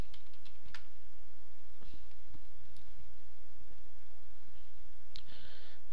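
A password is typed on a computer keyboard as a quick, irregular run of light key clicks close by, fairly faint over a quiet background hum.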